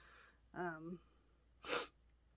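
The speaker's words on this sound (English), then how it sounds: "Hold on, I have to sneeze." A short voiced intake of breath, then one sharp, close sneeze bursting out on its own.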